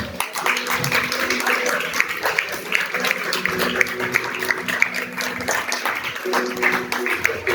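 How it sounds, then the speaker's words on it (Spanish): A church congregation claps for the Lord in a loud, sustained round of applause, with dense overlapping claps and voices mixed in throughout. "Quiero que hagas un fuerte aplauso al Señor."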